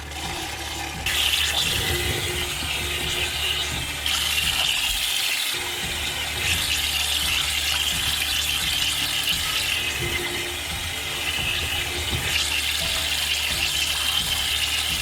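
Water rushes and splashes steadily for about fifteen seconds, with a faint mechanical clatter, while a coal water filter from an off-grid water system is rinsed out.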